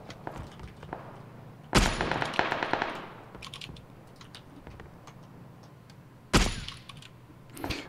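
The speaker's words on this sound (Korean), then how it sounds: "누가 움프로 쐈다" Sharp UMP submachine gun bursts in PUBG crack out twice, a loud rapid volley near the start and another late, over quiet ambient game background.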